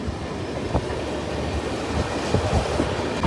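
A Mysuru to Shirdi passenger train near Ballari Cantonment runs at speed with a steady, loud rumble of wheels on rails and faint clattering over the track.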